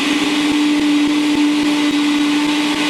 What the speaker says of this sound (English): we're now going to blend it up using an ordinary, plain old, ordinary blender